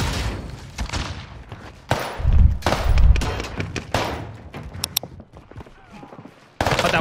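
Rapid bursts of H4 Blixen gunfire in Call of Duty Warzone on Rebirth Island, loud close volleys of fast shots with pauses between bursts and some heavier thumps.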